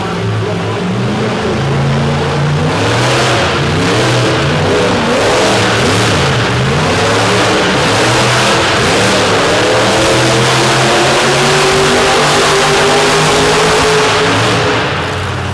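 Monster truck engine at a donut competition in Corbin, Kentucky, revving loud and close, its pitch rising and falling through repeated surges as the truck spins, with no talk over it.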